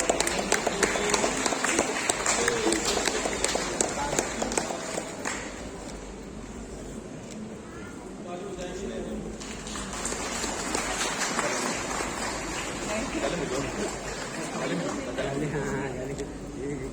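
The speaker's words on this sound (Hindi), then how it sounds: "जोर से ताली बजाएंगे।" Wedding guests at a church wedding in Chhattisgarh, India, clap steadily as a crowd, a dense, continuous patter of applause with murmured chatter underneath.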